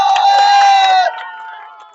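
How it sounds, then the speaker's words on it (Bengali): A crowd cheers and shouts for the first-place winner of a children's balloon-on-water game who is handed a bottle of oil as a prize. Bright, loud voices ring out for about a second, then fade to quieter chatter. "তো হাততালি।"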